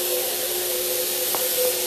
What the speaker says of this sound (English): testing it on the cardboard, and also testing the spray pattern again